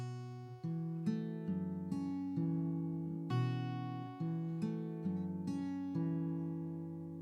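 Acoustic guitar fingerpicking a repeated pattern on open strings for a song, with plucked notes ringing into one another in a steady, flowing rhythm, close and clear with nothing else heard.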